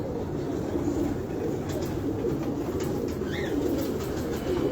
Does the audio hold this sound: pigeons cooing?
yes